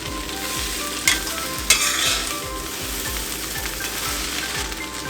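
Pad thai with shrimp and chives being stir-fried in a pan, a steady close sizzle with repeated scraping stir strokes and a couple of sharp utensil clanks, no talking.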